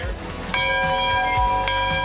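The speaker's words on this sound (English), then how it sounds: "there's a bell for survivors to ring" A bell rung by cancer survivors at a football tailgate party gives sustained metallic ringing tones with a fresh strike partway through, over outdoor crowd noise.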